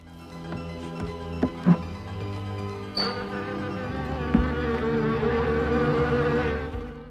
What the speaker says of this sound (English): Are these bees? What was that sound?